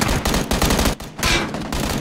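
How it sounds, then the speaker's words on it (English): Automatic gunfire in PUBG, loud rapid bursts close by, with a short pause in the middle before the shooting resumes. "Oh, that was a waste of bullets."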